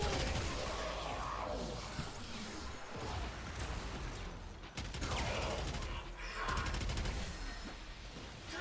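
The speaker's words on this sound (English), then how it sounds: "At least gun go burr." Sustained automatic weapon fire in the video game Warframe chatters on continuously at a steady, dense level, punctuated by heavier impacts, with a brief dip near the middle before the barrage resumes.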